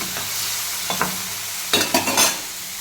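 Onions and green chillies frying in a pan with salt, a soft steady sizzle broken by several sharp scraping stirs near the end, close up with no talk.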